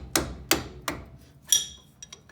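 Metal clanks from a 17mm ring spanner working on front brake caliper bolts of a Nissan GQ Patrol, with four sharp knocks followed by a few lighter ticks, close and fairly quiet.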